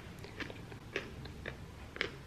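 Biting and chewing a crunchy seeded Peruvian fruit in Urubamba, four distinct close crunches spaced roughly half a second apart over a faint background hum.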